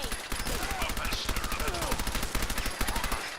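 Sustained automatic gunfire in Fallout 4, a steady, rapid string of loud shots running through the whole stretch with brief breaks.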